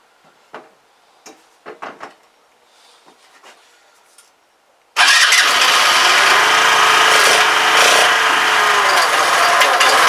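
A Kymco Agility 125 scooter with a carburettor and valve fault cranks with a few faint clicks, then its engine catches and runs loud and steady at close range, roaring on to the end.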